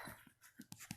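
Dog panting in short, uneven bursts of breathy huffs, close and moderately loud, with no talk over it.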